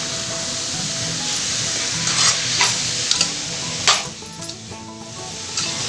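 Tender baby jackfruit vegetable with coconut being stirred in a pan, with a continuous soft sizzle of frying and several sharp spoon scrapes and knocks against the pan, close up and with no talking.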